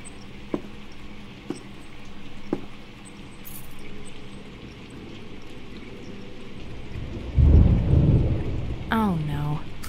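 Steady rain falls in a video game's gray concrete city, with faint clicks early on and a heavy low thunder rumble swelling near the end, followed by a brief creaking, pitched sound.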